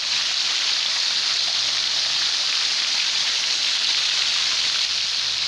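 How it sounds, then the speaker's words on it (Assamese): An artificial rain shower sprays water from overhead onto a fish pond, making a steady, even hiss of falling droplets that continues unbroken throughout. "এয়া চাওক, মই দেখাইছোঁ এয়া যিটো কৃত্ৰিম বৰষুণ"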